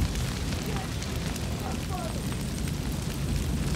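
Fiery explosion in the video game Far Cry 6: a dense, continuous roar of flames and blast rumble fills the whole stretch at steady loudness, with faint tonal game effects flickering through it.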